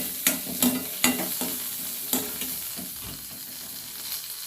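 Onion with green and dried red chillies frying in oil for radish chutney, a steady soft sizzle broken by several sharp stirring scrapes and clinks, close and alone.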